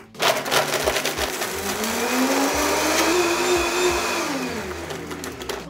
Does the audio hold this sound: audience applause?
no